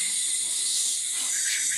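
Steady, loud steam hiss from a pressure cooker, broad and continuous throughout with no pauses or voices.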